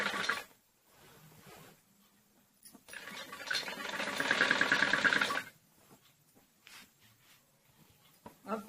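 Domestic sewing machine stitching a pleat on a khajuri salwar, a short whirring burst of stitching in the middle with quieter handling before and after, no talk.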